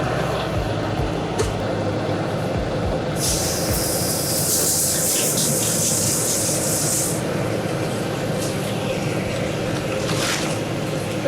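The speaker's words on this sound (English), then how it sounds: "I need to start pour water into the pool" Water pours steadily into an inground wooden pool to set the liner, a broad continuous rushing wash with a brighter hissing spray for a few seconds midway, close and alone.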